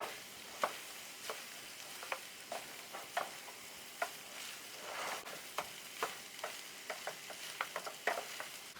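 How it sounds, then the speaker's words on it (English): A spoon stirs vegetable pasta in a pan, with quiet repeated scraping clicks spaced roughly every half second over a soft low sizzle, close and faint, no talking. "Now we can mix it thoroughly."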